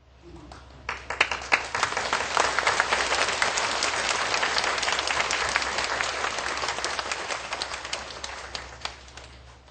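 A large audience gives a big round of applause to honor His Excellency and distinguished guests, a full, dense clapping swell that builds fast and holds steadily for many seconds at moderate loudness.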